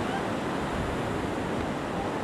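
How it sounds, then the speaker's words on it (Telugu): Ocean waves breaking on Pakala beach in Andhra Pradesh make a steady, loud, close surf roar that holds for the whole stretch without pause and with no voices. "సో చూడండి ఎట్లా వస్తున్నాయి ఇవి అలలు"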